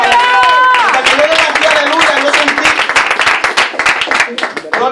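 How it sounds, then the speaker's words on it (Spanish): A church congregation at an evangelical service claps loudly and briskly, dense overlapping hand claps mixed with cheering voices and a preacher speaking over the crowd. "¿Cuánto le da un aplauso al Señor?"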